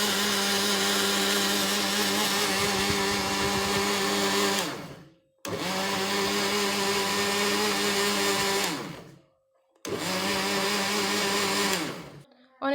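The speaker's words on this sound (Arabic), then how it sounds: "ونحط معلقتين سكر اهو، ومعلقتين لبن، والفانيليا اهوت، ونضربهم كويس" An electric blender beating sugar, milk and vanilla for a cake batter runs in three loud, close bursts, each cutting off sharply with short pauses between them.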